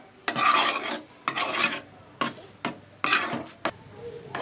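Fish eggs fry in a pan over medium flame while being stirred, giving bursts of scraping and sizzling in an uneven rhythm with short pauses between strokes, close and fairly loud.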